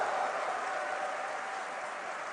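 At a StarCraft tournament event, a crowd cheers and applauds for the Swedish player MaDFroG, a dense, even wash of clapping and noise held at steady volume, slightly distant.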